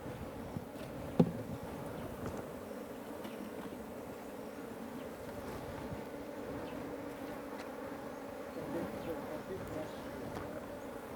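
Bees being brushed off honeycomb into a hive during a honey harvest in Karamoja, Uganda, droning in a steady dense buzz throughout, with a brief knock early on.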